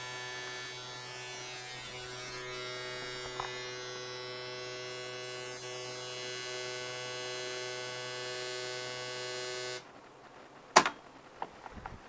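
A picture encoded into an audio signal for recording onto tape, a steady harsh electronic buzz with layered tones lasting about ten seconds, then cutting off to faint clicks and a brief knock.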